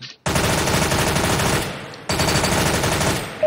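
High-caliber automatic gunfire in CS:GO training, two long loud bursts of rapid shots at a target behind a piece of wood, with a short gap between them.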